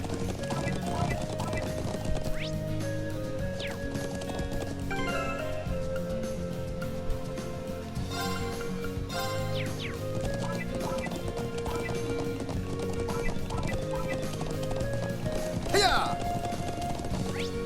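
Horse hooves clip-clop steadily in The Legend of Heroes: Trails of Cold Steel, a running rhythm under game music with someone talking over it.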